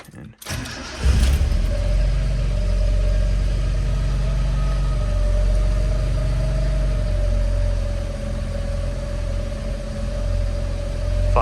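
A cold 1974 Toyota Corolla KE20, with some choke applied, cranks briefly and fires up within the first second, then settles into a steady, even idle that runs close and loud for the rest of the clip.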